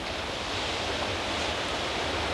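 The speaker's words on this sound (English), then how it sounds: "listen to the sea behind me." Sea waves wash onto the shore at a coastal wild camp, a steady, even roar of surf with no distinct breaks and no talking.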